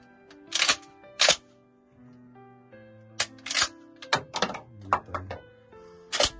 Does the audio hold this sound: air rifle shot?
yes